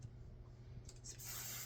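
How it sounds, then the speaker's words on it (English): Hairspray from an aerosol can hisses onto the front pieces of hair during a styling routine, a soft short spritz then a steadier, louder burst of spray near the microphone at the end. "spray these front pieces"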